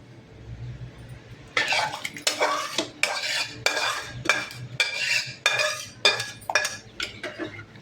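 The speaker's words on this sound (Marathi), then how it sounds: "कढई खाली उतरते आणि येळवणीचं पातेलं ह्याच्यावर ठेवते" A metal kadhai lifted off a gas stove and a cooking pot set down in its place, with a run of loud clanks and scrapes of cookware over low kitchen hum, no talking.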